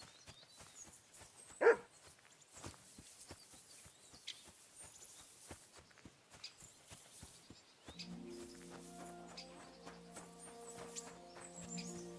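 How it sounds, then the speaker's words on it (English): A dog barks in the medieval video game Kingdom Come: Deliverance 2. Several faint, scattered barks come from a distance, with one sharp, louder bark near the start over a quiet ambient background. Musical tones enter late in the clip. "Barking."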